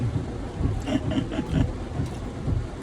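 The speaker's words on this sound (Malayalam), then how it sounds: "നല്ല മഴയുണ്ട്" Steady heavy rain pours down in Kanhangad, Kerala, as a dense, continuous wash of noise with a low rumble underneath.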